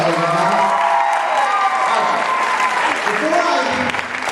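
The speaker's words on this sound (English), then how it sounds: "Let's give them a great round of applause." Loud audience applause and cheering at a comedy hypnosis show, a dense roar of clapping with shouting voices mixed in, tapering slightly near the end.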